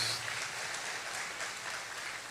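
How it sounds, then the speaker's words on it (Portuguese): Church congregation at a seminar service applauds, a steady, even patter of many hands clapping at moderate volume with no talking over it. "Vamos dar uma salva de palmas ao Senhor."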